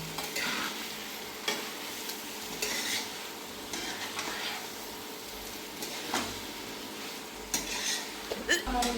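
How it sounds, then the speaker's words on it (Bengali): Pieces of local chicken fry in a pan while being stirred, a soft steady sizzle broken by scraping and clinks of the utensil against the pan. "মাংসগুলো দিয়ে একটু নেড়ে চেড়ে দেবো।"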